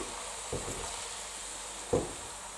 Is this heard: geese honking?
no